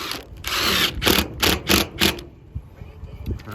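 Power driver sinking screws into a steel roof plumbing flange, several short bursts of whirring and grinding in an uneven rhythm, close and loud, then quieter handling noise.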